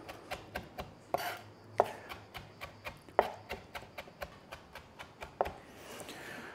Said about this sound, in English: we just run our knife through that a couple of times so it gets real fine